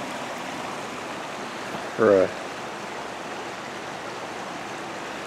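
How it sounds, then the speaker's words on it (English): A small river flows beside a trail with a steady, even rushing wash throughout, and a voice briefly speaks over it midway. "here's a nice little river trail"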